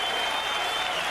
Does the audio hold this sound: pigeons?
no